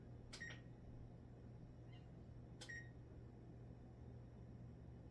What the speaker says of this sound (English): let me do the timer